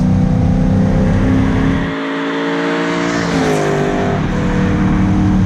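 A 1974 Alfa Romeo Montreal engine roars loudly and steadily on an open road, revving up through the gears as it accelerates, with a brief drop in tone before climbing again.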